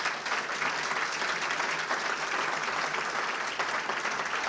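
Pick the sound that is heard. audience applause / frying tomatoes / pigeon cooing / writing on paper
audience applause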